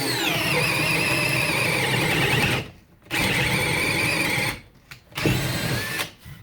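A Makita XFD11 sub-compact cordless drill bores with a 3/4 inch bit, whining loudly at high speed, briefly bogging and cutting out several times before spinning up again, close by with no talk.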